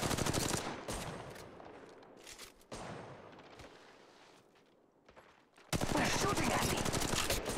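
Rapid bursts of automatic gunfire in the mobile shooter Apex Legends Mobile, loud dense volleys that ease off midway and then erupt again at full intensity, with no talking.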